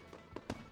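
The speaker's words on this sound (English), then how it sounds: "With music and a fantastic fireworks show after each and every Friday home game" Distant fireworks crackle with a couple of quick, faint pops after a Friday home baseball game at Constellation Field.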